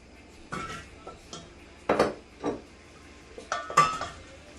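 A spoon stirs bubbling peach ginger jam in a pot, giving several distinct clinks and scrapes against the pot at irregular intervals, close and moderately loud, with a soft bubbling bed underneath.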